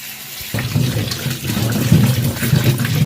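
Rinse water drains and splashes off freshly washed green chillies in a home kitchen, a steady close rushing pour starting abruptly after a quiet moment and continuing to the end.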